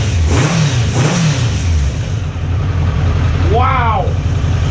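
A Kawasaki Concours ZG motorcycle engine runs loud and close, its pitch swelling in two quick revs, then settling to a steady run before a sharp rising-and-falling whine near the end.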